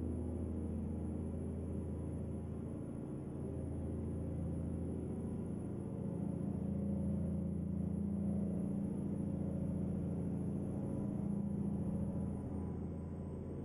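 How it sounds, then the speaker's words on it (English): A Cummins-engined Peterbilt 388 wrecker truck idles and runs steadily, a low continuous engine rumble that swells slightly midway, heard alone with no voices and a thin high whine above it. "I really like this, the Cummins 444. It's got a nice sound to it."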